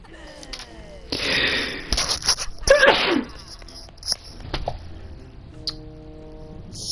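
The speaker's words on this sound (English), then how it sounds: "I feel like I'm gonna sneeze again." A person sneezes at close range, a sharp loud burst with a gasp and follow-through, with quieter game sounds and faint noises before and after.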